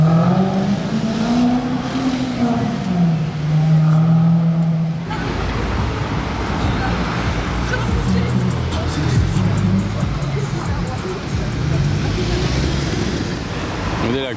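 A Gordon Murray T50 supercar revs in Monaco, its engine howling loudly amid street traffic noise, with a sharp rise after a few seconds and sustained roar, while people talk nearby.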